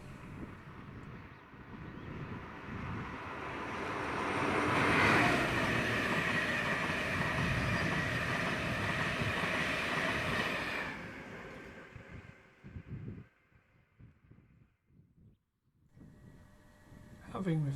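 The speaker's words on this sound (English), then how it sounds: "The first class 91 of the visit, 91107, working 1D09, King's Cross to Leeds." A class 91 electric locomotive hauling a King's Cross to Leeds train passes near Marholm with a broad rising roar and rumble that peaks midway and then fades, leaving quieter knocks and rustles.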